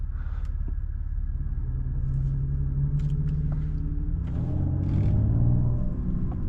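A 2024 Mercedes-AMG GLE 53 accelerates in evening traffic, its engine rumbling deep and steady from the cabin, rising in pitch as it pulls through a gear change, with light tire and road noise.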